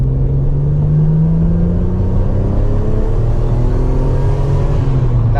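Turbocharged car engine held at a steady, loud drone on a Megasquirt tuning pull, its pitch rising slowly and evenly with a deep rumble throughout and no one talking.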